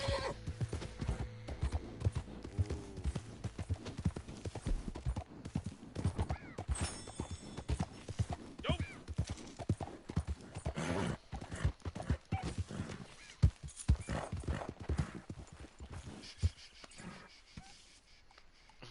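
Horse hooves clip-clop at a steady walking pace in the video game Red Dead Online, fairly close, with an occasional whinny and light background sounds; no one speaks.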